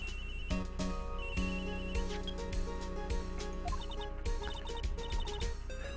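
A telephone rings in the Phoenix Wright: Ace Attorney video game, a steady electronic ringtone trilling in repeated bursts over a continuous musical background, with no voices.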